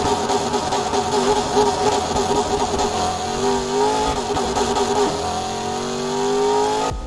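A car engine in the Need for Speed Heat racing game revs high and holds against the rev limiter, a loud close buzzing drone with rising pitch sweeps and brief cuts, no voices.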